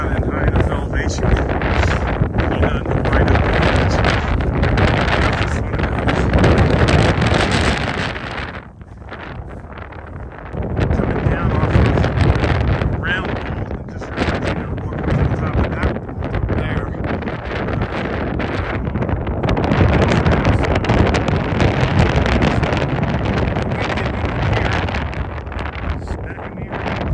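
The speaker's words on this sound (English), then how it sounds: "It has been a really windy day." Strong wind buffets the microphone on an Appalachian Trail mountain ridge near Roan High Knob, a loud continuous roar that briefly drops to a lull partway through before surging back.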